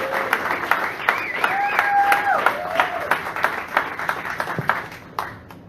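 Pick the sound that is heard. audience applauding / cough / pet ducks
audience applauding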